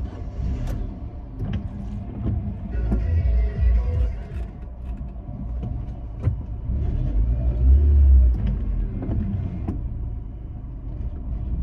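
Car starting after running out of petrol and being refuelled: the engine rumbles into life and keeps running, its low idle swelling and easing with a couple of revs, close and fairly loud.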